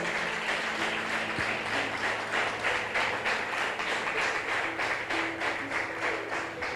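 A church congregation gives the Lord a loud round of applause during a sermon, with dense, steady clapping from many hands that fills the room without a break and no voices on top.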